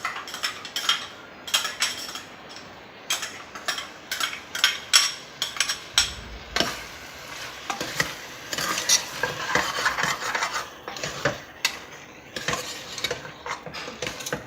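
A coconut and poppy seed paste being stirred into frying mutton biryani makes quick metal-on-pan scraping and clinking, with irregular rattling strokes that go on throughout under a faint background rumble.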